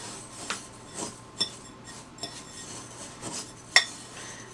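A fork scraping and clinking against a bowl while water is worked into dry attiéké (cassava couscous), giving a few soft scrapes and sharp metallic taps spread across the moment, close and fairly quiet.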